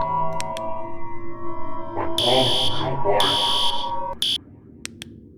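Repeated electronic warning alarm from the horror video game Abandoned by Disney, Lost Forests demo, sounding in two bright high-pitched bursts over a steady droning game ambience with lower tones, followed by a short final beep.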